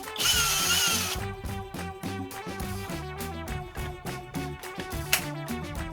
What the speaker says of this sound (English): let's fully assemble the case and test the grinder